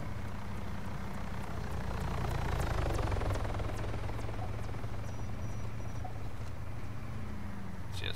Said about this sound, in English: Helicopter destroyed, kill assist, objective offensive.